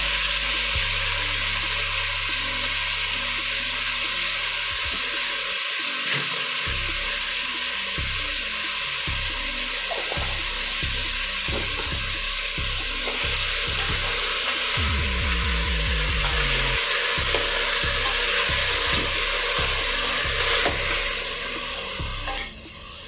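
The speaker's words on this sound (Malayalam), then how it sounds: "അതെല്ലാം ഒന്ന് വഴറ്റാനായിട്ട് അപ്പുറത്തേക്ക് ഉപ്പും പൊടിച്ച് കൊടുക്കാമേ" Chopped vegetables sautéing with salt in a pan for a vegetable stew: a steady, close sizzle runs throughout, with repeated rhythmic knocks and scrapes of stirring and no talk.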